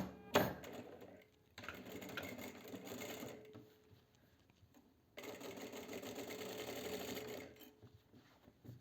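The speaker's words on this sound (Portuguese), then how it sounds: "Vou fazer a costura do lado do forro." Sewing machine stitching the lining seam of a midi dress with elastic shirring, running in two long bursts separated by a pause, close and steady with no talk.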